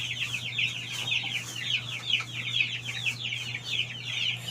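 Flock of chickens clucking steadily at feeding time, dense overlapping calls close by over a low constant hum, with no talking.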